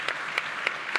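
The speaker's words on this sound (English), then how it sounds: "Can we give her a big round of applause, please?" Short, moderate applause from an audience at a panel event, a soft continuous patter with a few sharper individual claps poking through, no voices.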